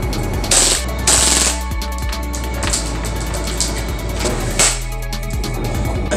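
An AW HX2232 Hi-Capa airsoft pistol fires on full auto in a shop, giving rapid rattling bursts with short pauses between them, loud and close.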